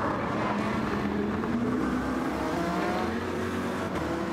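Race car engines drone continuously at high revs as GT7 cars climb through a sweeping uphill right-hander at Sardegna, a steady layered roar with shifting engine tones and no break.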